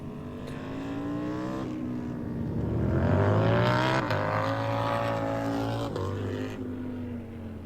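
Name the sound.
Road Glide bagger motorcycles in race practice at COTA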